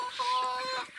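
Chickens that have grown from chicks cluck for about a second at a farm, a steady, moderately loud run of fowl calls with no talking.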